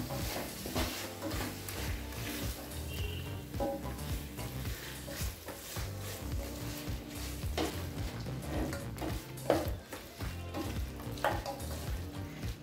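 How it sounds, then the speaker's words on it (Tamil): Mutton with freshly ground masala sautéing in a pan, a continuous close sizzle and frying hiss with frequent scraping strokes of a spoon stirring, no one talking over it. "நல்லா வதக்கிக்கலாங்க."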